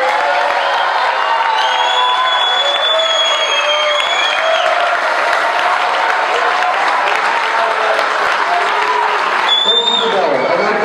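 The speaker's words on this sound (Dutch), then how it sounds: "Zo meteen een heel hard applaus met heel veel gejuich voor de organisatie van dit toernooi" A crowd at a youth football tournament prize-giving claps loudly and cheers for the organisers, with sustained dense applause, whoops and children's shouts throughout.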